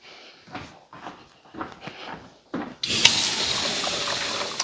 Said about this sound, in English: let me wash my hands up a little bit